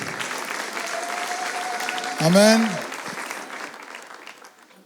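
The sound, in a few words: church conference audience applauding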